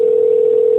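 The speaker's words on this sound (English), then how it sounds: "Love the sound of a phone ringing" A telephone line tone sounds while a call is placed, a single loud steady hum held without a break.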